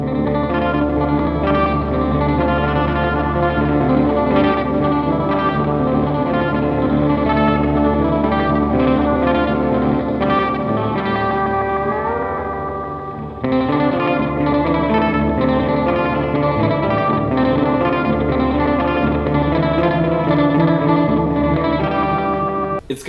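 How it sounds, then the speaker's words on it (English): Dwarfcraft Super Wizard effects pedal playing with its always-on echo circuit set to a very long delay time, a sustained, loud, distorted tone with repeating echoes and a brief dip in the middle, no talking. "So let's hear the echo."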